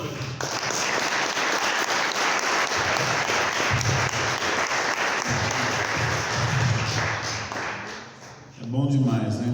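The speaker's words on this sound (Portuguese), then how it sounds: "Vamos aplaudir o Senhor." A church congregation applauds in loud, sustained, dense clapping that holds for about eight seconds, then thins and fades as a voice begins speaking at the end.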